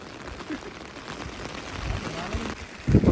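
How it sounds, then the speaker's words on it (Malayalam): Heavy rain during monsoon fishing, a dense, even hiss of drops on surfaces that swells slightly toward the end, with faint voices and bumps beneath it. "നല്ല മഴയാണ്."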